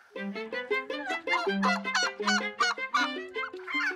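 Excited male turkeys gobble in rapid, rattling bursts, a loud and close chorus of overlapping calls that rises and falls in waves with no talk over it.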